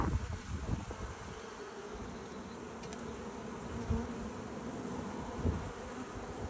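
An Africanised killer bee colony packed inside two chimneys buzzes in a steady, dense drone, close and continuous, with faint handling knocks and no talk.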